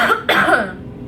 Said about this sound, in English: I cannot shake this cough